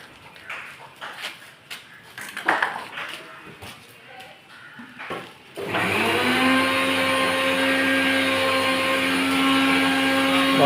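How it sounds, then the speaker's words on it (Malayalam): A household mixer grinder is switched on in a Kerala kitchen and runs loud and steady after several seconds of scattered clatter and faint voices. "മിക്സി ഓൺ ചെയ്തിട്ടുണ്ട്"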